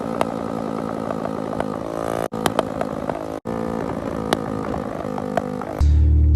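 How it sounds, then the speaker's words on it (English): A small GY6 scooter engine idles and runs steadily close by, a buzzing drone with brief cut-outs, then a deeper, louder rumble near the end. "For all your scooter lovers, this is a GY6."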